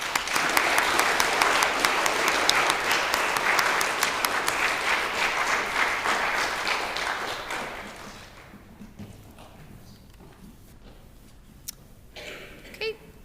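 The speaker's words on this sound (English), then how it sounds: "Let's give them one more round of applause." School spelling bee audience applauding contestants: loud, steady clapping for about eight seconds, then fading to scattered light claps and quiet room noise.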